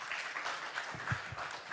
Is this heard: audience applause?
yes